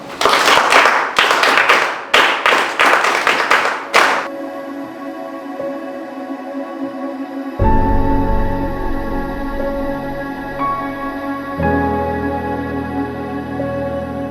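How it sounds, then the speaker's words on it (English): Audience clapping at a charity gathering in a Ugandan village: several loud bursts of hand claps in the first four seconds, then the clapping stops and a steady tonal hum continues to the end. "Can you clap for her?"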